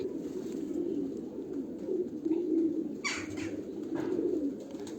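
Kali Tind pigeon cooing, low soft rolling coos repeating close by in a quiet room, with a brief flutter or rustle partway through.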